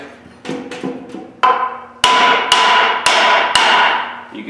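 Hammer smacking a truck driveshaft part on a 2009 Ford F750, a series of loud, ringing metallic strikes, the last ones sharper and louder with a sustained tone.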